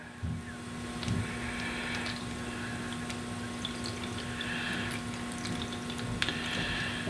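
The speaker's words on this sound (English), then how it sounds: "let's water it right now. I'll probably put a good, see, it's just taking it right up" Water is poured onto the soil of an indoor seed tray sown with Detroit Dark Red beet seeds, giving soft intermittent trickling and soaking sounds, close and quiet, over a faint steady electrical hum.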